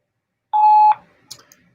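Voicemail tone sounding just before a message is recorded: a single clean electronic beep lasting about half a second, loud and alone, followed by faint clicks and quiet line noise.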